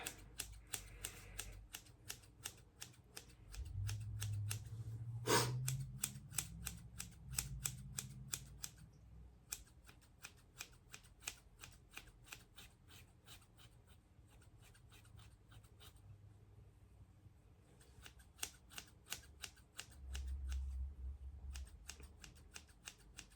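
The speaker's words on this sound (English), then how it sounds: "And then I'm going to go in and point cut that." Repeated crisp snips from scissors point cutting into hair during a wolf cut, a steady run of close, sharp clicks with a few louder bumps and no talking.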